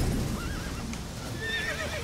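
A horse whinnies in The Witcher 3 video game, a drawn-out neigh rising and falling over a steady game ambience, with a second, higher whinny following near the end.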